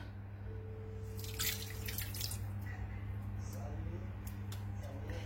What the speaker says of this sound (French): On va ajouter les deux jus de citron.